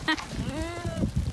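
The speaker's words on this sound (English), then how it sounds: "A lot of sheep" A sheep lets out a wavering bleat amid other animal and voice noises, among a flock in Da Lat, Vietnam, with a person talking nearby at moderate volume.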